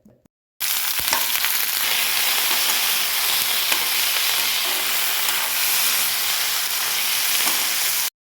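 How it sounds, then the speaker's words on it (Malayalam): Manathakkali leaves hit hot oil in a pan for chutney and sizzle loudly and steadily for about seven seconds after a sudden start, a close, continuous frying hiss with no talking. "സോ അതും കൂടി ഇട്ടിട്ട് ഒന്ന് നല്ലോണം വഴറ്റുന്നുണ്ട്"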